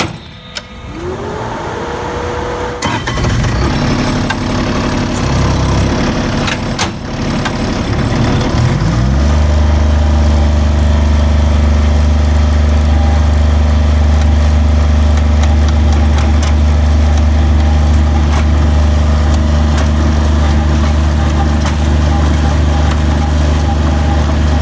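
A loader engine runs while carrying HPB gravel for an interlock stone repair, idling steadily before settling into a louder, even mid-to-low drone that continues without a break.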